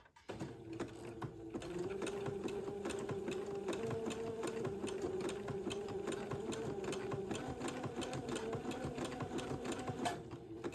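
A sewing machine runs steadily while narrow lace is sewn onto a baby's diaper shirt. Its motor hum is continuous and close, with a faint rapid needle clatter running through it, and no talk is heard.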